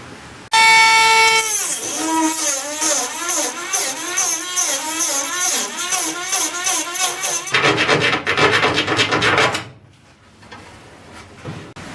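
Loud, harsh grinding and screeching of a cutting tool biting into a metal panel on a 1969 Ford Falcon XW car, wavering pitch, then rough rasping before it stops.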